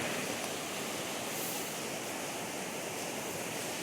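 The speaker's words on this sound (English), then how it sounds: "Definitely in full flood stage. That creek is roaring." A creek in full flood on the North Fork of the Willamette roars as a loud, dense, unbroken wall of rushing water close by, with no voices over it.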